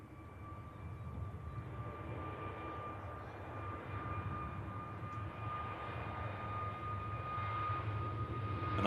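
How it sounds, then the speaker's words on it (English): A Jet2 Airbus A321neo jet departing from Manchester Airport gives a distant, steady engine roar with a faint whine, slowly growing louder toward the end. "And off to Fuerteventura, the Jet2 Airbus A321 Neo."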